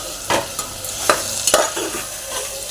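Soaked chana dal being stirred and roasted in masala in a pan, a spoon scraping in a few distinct strokes over a soft steady sizzle, close and clear with no talking.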